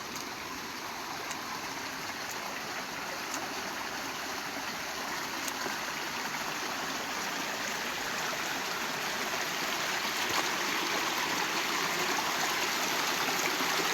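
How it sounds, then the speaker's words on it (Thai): Clear jungle stream flowing steadily over rocks, a constant close rush and trickle of water that holds even for the whole stretch, with no voices over it. "แม่น้ำใสนี้แต่เฮายังน้อยก็เคยออกไปหากิน"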